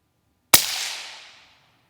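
Single sharp shot from a Volquartsen 17 HMR rifle fired at a target rack 100 yards away, a crisp crack with a short decaying tail, nothing else around it.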